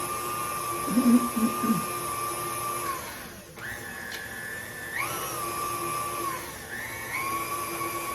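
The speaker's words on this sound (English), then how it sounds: "just let them whisk about 15 seconds or so each until it's well incorporated." Electric mixer whisking oatmeal cake batter, heard as a close, steady motor whine that changes pitch several times as the beaters work, with a brief voice near the start.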